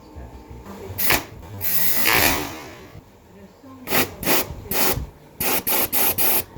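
Air is blown by mouth through the fuel line of a junkyard Buick Skylark in short hissing puffs, first a couple of longer blows, then a rapid series of four quick bursts, with voices in between.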